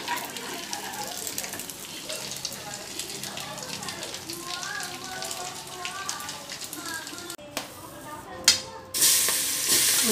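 Food frying and being stirred in a pan until browned, in Telugu home cooking: steady sizzling with scraping stir strokes under a speaking voice, ending in a louder burst of hiss.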